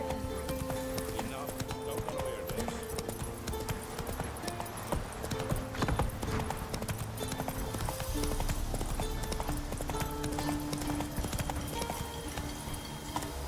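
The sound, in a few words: horse hooves galloping, Roach in The Witcher 3 video game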